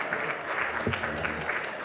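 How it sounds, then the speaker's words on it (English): An audience at a healthcare conference in the Cayman Islands applauds a winning contestant, a moderate, sustained patter of clapping that carries on evenly from start to finish. "Rob, big cheer for Rob."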